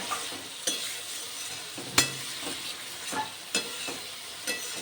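Cauliflower and potatoes frying with spices in a pan for a Bengali cauliflower curry, with a steady sizzle broken by several scrapes and knocks of a stirring spoon, close and moderately loud, with no voices.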